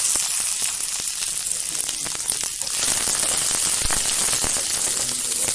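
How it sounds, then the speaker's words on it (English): Tomatoes and golden-browned onions frying in a pan for a cauliflower prawn curry, giving a steady, close, continuous sizzle and crackle with no talking. "Now I'm going to fry the tomatoes."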